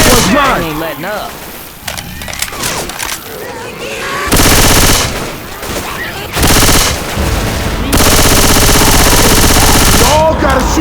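Rapid automatic gunfire from the Left 4 Dead 2 video game, loud and close, bursting in repeated sustained volleys with short gaps between them.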